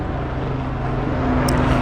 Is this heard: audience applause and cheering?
no